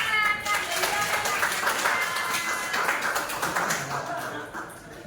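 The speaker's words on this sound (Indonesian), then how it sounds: "Tepuk tangan." A classroom of high school students claps together during a Javanese script lesson, a dense, steady patter of many hands that holds for several seconds and tapers slightly toward the end.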